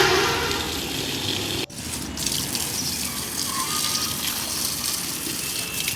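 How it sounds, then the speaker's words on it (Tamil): Water gushes steadily from a garden hose onto rooftop-garden flowering plants in a loud, continuous spray, with one brief interruption before the flow resumes. "ஓஸ் எடுத்து போட்டு தண்ணி விட்டுட்டு வரேன் நானே"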